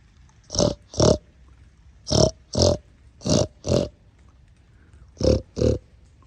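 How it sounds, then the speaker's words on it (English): A pig outdoors grunts loudly and close by in paired bursts, four sets of two short guttural oinks separated by brief pauses. "The dirt pig in his natural habitat."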